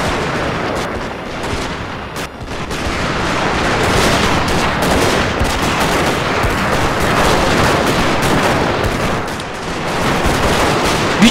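Massed Gatling guns fire without pause in the Shogun 2 strategy game, a dense, continuous wall of rapid gunfire rattling loudly throughout with no let-up.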